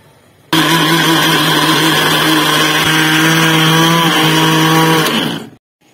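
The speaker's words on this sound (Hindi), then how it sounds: "मैं मसाले को ग्राइंड कर लूंगी" A loud electric spice grinder grinds masala, running steadily for several seconds with a high whine, then spins down and stops.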